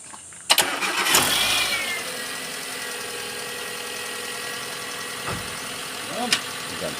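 A 2003 Ford Lynx car engine cranks and catches after a water pump replacement, then settles into a steady idle close by, with a few brief clunks and a voice talking over it.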